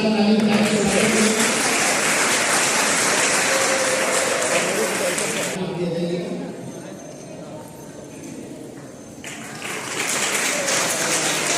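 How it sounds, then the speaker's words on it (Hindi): Loud applause from a school audience at a road safety event, a dense wash of many hands clapping that fades partway through, then swells again, with a voice speaking over it. "जोरदार ताली"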